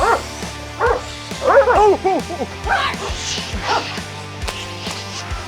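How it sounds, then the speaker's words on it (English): Rover, an estate protection dog in training, barks in rapid bursts up close, with yelps and whimpering whines between them as someone shouts commands. "we're training Rover as an estate protection dog"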